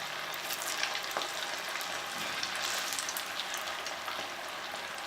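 Veg Manchurian balls frying in hot oil, a steady dense sizzle and crackle with faint popping throughout, fairly quiet and continuous with no voices.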